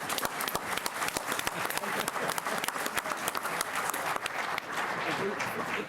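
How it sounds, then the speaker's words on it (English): A room at a Joliet special city council meeting breaks into applause, a dense stretch of clapping that runs for several seconds at moderate volume, with voices talking over it. "That deserves an applause."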